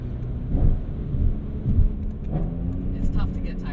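A BMW E46 M3 ZCP track car rumbles through downshifts, its engine swelling in short bursts over a steady drone, heard from inside the cabin with voices talking alongside.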